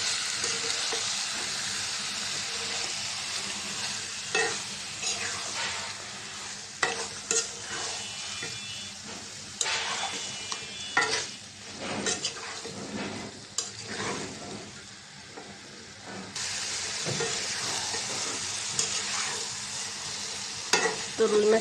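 Rohu fish pieces sautéing in spice paste in a pan, a sustained sizzle broken by frequent scraping and turning strokes of a spatula, close and steady over a long stretch with no speech.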